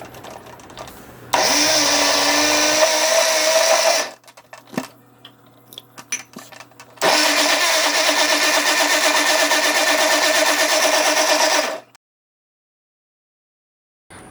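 A kitchen mixer jar grinds grated coconut, cumin and curd into a fine paste for Kerala kaalan, running loud in two steady whirring bursts of a few seconds each with a quiet pause between and silence after.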